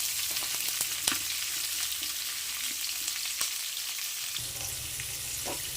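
Chopped onion and green chillies frying in a pan for upma, giving a steady sizzle with occasional stirring clicks and scrapes, moderately quiet and without talk.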